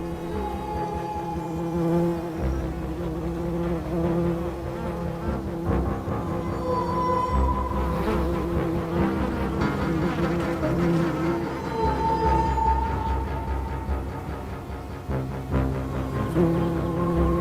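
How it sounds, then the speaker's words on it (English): Female bee flies hover over bee nest chambers, their steady insect buzzing droning continuously at moderate loudness with shifting pitch as they move. "After the bees have gone, the flies move in. They hover over the bee chambers,"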